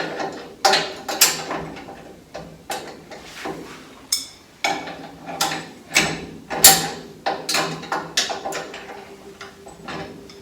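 A wrench works on the front suspension of a 1951 Ford, giving a string of sharp metallic clicks and ratcheting bursts in uneven rhythm, close and fairly loud, with no talking.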